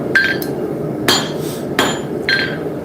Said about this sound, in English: I'm using the corner of the anvil,